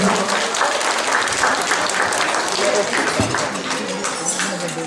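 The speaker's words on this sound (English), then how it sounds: "Let's give everyone a round of applause" A crowd at a 30th anniversary event claps loudly and continuously, the applause thinning slightly toward the end.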